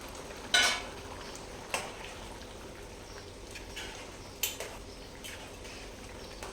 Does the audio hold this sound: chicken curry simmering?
yes